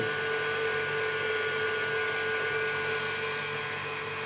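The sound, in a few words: electric mixer whipping egg whites and sugar for meringue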